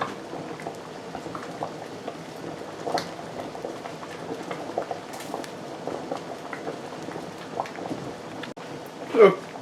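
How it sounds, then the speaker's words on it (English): Potatoes boil in a pot of water, a close, steady bubbling and light churning with soft splashy pops and a louder burst near the end, while someone talks over it. "it has now been 19 minutes that these potatoes have been boiling"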